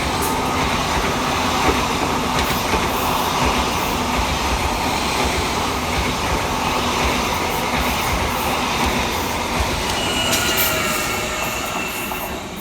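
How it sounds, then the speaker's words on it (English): A train roars steadily past platform 2 at White Hart Lane station at speed without stopping, a loud continuous rumble with rattling wheels and a faint squeal of metal toward the end. "The train now approaching platform 2 does not stop here"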